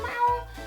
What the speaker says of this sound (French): qui va me regarder avec un petit miaulement